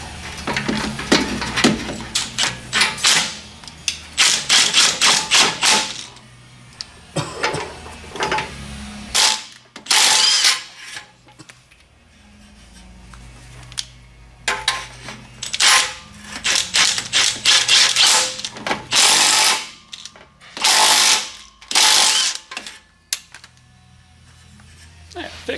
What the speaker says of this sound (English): A little bit of a crimp on the pipe, so we're going to use an expander.